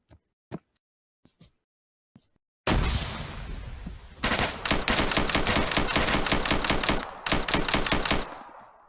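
Video game gunfire: a few isolated sharp shots open the sequence, then a long loud burst of automatic fire and a second rapid rattling burst with a brief pause between, close and dominant, with no voices.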